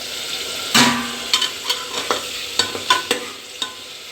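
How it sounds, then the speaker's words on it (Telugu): Ginger garlic paste and freshly ground masala paste fry in hot oil as a spoon stirs them, a soft sizzle broken by a loud scrape near the start and then a run of irregular, close clinks and scrapes. "ఇప్పుడు మనం గ్రైండ్ చేసుకున్న పేస్ట్ అంతా ఇందులో వేసేసేయాలి. 1 నిమిషం ఇలా కలుపుకోవాలి దీన్ని."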